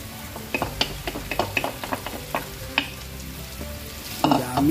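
Pork belly frying in a pan with Baguio beans, a close, continuous sizzle broken by repeated stirring scrapes and clinks of the utensil against the pan, with no talking.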